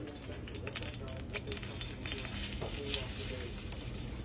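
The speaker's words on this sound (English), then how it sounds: "You have to toast your rice." Rice flour sizzles and crackles as it toasts in a pan for Guyanese pandri, a steady close frying hiss with faint scraping from stirring.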